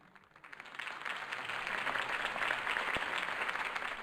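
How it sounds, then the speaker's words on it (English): Applause for Harvey Dent's campaign speech in the Batman Telltale game rises quickly from a hush into a steady, full crowd roar of clapping that holds loud to the end. "could have heard that applause"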